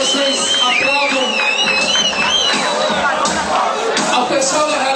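A party crowd cheering, whooping and yelling, loud and close throughout, with a voice calling out over the noise.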